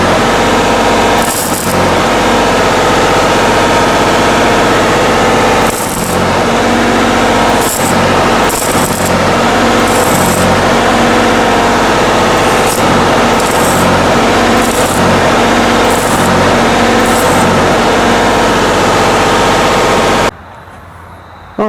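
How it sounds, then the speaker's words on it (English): Welder running on the end caps of a 35-year-old homemade trailer's ramps, a steady loud crackling buzz with rhythmic brief pauses and restarts, close up, no voices. "we'll crank the welder up. We're going to go ahead and weld these out on the end caps"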